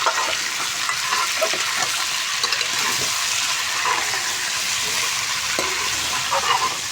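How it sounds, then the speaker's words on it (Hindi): Chicken for a white chicken karahi fries in a karahi with a bright, constant hiss of oil. Intermittent stirring scrapes come through close up, and no voices are heard. "अब देखिए, हमने इसको अच्छे तरीके से मिक्स कर लेना है, फ्राई करते जाना है।"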